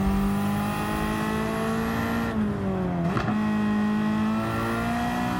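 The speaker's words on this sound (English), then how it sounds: "I love the sound of this car." A backyard-build Ford Focus touring car in a racing video game drones with a loud, steady engine note that dips briefly on a gearshift or lift, then climbs again at high revs.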